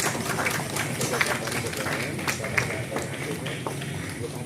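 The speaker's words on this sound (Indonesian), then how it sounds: "Tepuk tangan untuk Ketua RW kita." Audience applause at a neighbourhood Isra Mi'raj gathering in Tangerang, a steady wash of clapping from a crowd that holds at an even level throughout with a few sharper claps standing out.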